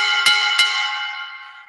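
A hand-held cowbell in a Latin jazz setting is struck twice in quick succession, each metallic clank ringing out and slowly fading, clear and close with no talk.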